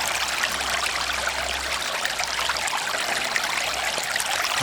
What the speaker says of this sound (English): That is a bit of rain.